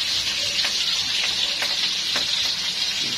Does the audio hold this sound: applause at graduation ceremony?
no